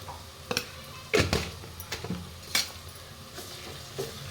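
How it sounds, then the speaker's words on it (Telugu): Ginger garlic paste fries with onions and salt in a pan under a soft, steady sizzle, broken by scattered sharp scrapes and clinks of a spoon stirring against the pan. The sounds are close and no one speaks. "పచ్చివాసన పోయే వరకు బాగా ఫ్రై చేసుకోవాలి"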